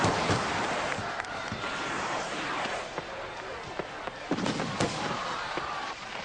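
Active fireworks at a historical holiday celebration, with scattered sharp bangs and crackling bursts over a continuous dense rumble of noise throughout.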